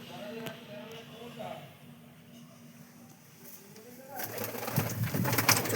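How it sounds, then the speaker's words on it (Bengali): Pigeons coo in soft repeated rolling calls close by, with people talking and background bustle growing louder toward the end. "এই যে কত কবুতর আছে বন্ধুরা"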